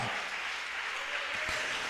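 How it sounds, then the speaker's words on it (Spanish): A church congregation applauding, a dense, steady patter of many hands clapping together, fairly faint and continuous throughout. "¿Quién tiene aplausos para Él?"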